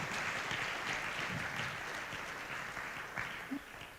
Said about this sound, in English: Can you welcome me in another round of applause for Q?